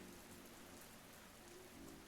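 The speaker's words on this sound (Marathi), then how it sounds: "सुंदर पाऊस पडतोय बाहेर." Steady rain falling outside, a dense even patter on surfaces that continues without a break, soft and diffuse at a moderate distance.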